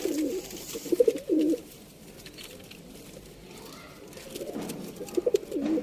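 Sialkoti pigeons, young birds of the 35 type, coo in a few soft low bursts near the start and again toward the end, with quieter stretches between.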